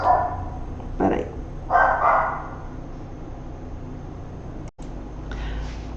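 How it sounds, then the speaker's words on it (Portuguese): A pet dog barking indoors, three muffled barks in quick succession early on, then a quiet room with low hum and a soft thump. "Ele continua latindo."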